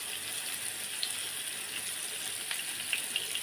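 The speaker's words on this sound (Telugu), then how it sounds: "ఒక 4 ముక్కలు ఉంచేసి ఇప్పుడు ఫ్రై చేస్తున్నాను." Four large fish pieces fry in a pan of oil, a continuous watery crackle and sizzle with a few small pops scattered across the few seconds, moderately quiet, no speech.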